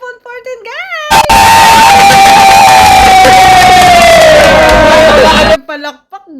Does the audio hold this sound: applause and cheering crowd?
yes